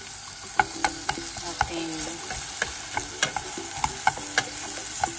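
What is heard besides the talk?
sautéing sliced onion in a pan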